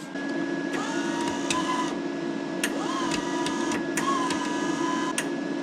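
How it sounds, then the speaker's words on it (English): Small wire feed motor of a welder pulling welding wire through the hose, a steady mechanical whir with a constant hum and a few brief clicks and rising whines, heard alone. "The small motor will pull the wire in all the way."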